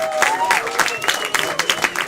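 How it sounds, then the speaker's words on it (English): An audience at a live event claps for the volunteers, with brisk, uneven clapping mixed with cheering and excited voices from the crowd. "Let's clap for our volunteers, everyone."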